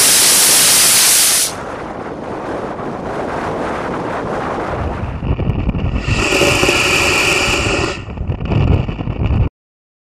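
A homemade metal rocket motor fires with a loud, close, roaring hiss lasting under two seconds, followed by rumbling wind and engine-like noise.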